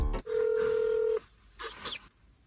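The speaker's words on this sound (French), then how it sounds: "Allô, Rosalie, je t'appelle." A telephone placing a call: a steady dial tone holds for about a second, then two short keypad beeps follow with quiet gaps between them.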